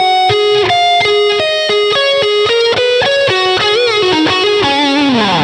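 Distorted electric guitar tone for a song intro, played through a Line 6 HX: a steady run of clear, sustained picked notes with a bend near the end, loud and alone.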